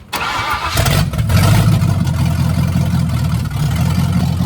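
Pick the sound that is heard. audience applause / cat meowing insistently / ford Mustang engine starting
ford Mustang engine starting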